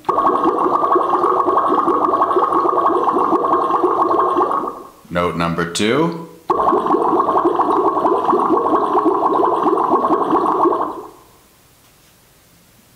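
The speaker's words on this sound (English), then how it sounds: "the sound effect was bubbles" A bubbling sound effect is played as two sustained musical notes, loud and close, with a short spoken phrase between them, then falls to near silence.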